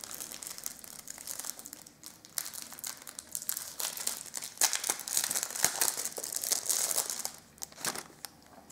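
Kawaii Korean stationery package being opened by hand: steady close crinkling and crumpling of plastic wrapping with short tearing rips, continuous for several seconds with no talking.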